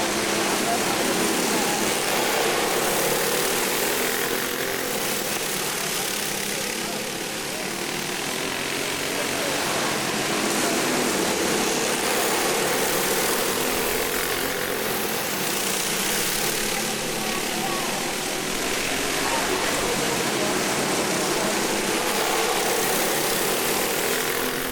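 Backyard go-karts race in a heat race on a dirt track, a steady wash of buzzing small engines heard from a distance with rising and falling swells throughout, mixed with broad crowd and outdoor noise.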